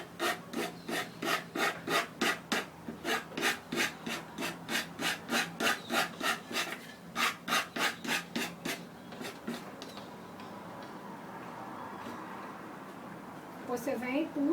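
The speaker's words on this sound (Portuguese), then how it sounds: "Mesma coisa, com o lado grosso da lixa," A decoupage piece is sanded with coarse sandpaper in steady, rhythmic back-and-forth rasping strokes, close and loud, before the strokes fade into softer rubbing; a voice is briefly heard.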